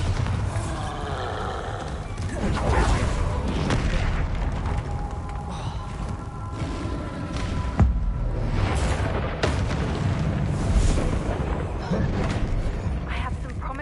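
Booming blasts from a Bombarda explosion spell in Hogwarts Legacy roll through a busy game soundscape, several heavy thumps with a sharp hit near the middle, loud and sustained over background noise.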